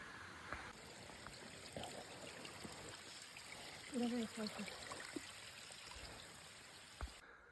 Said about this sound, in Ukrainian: а там жорчить водичка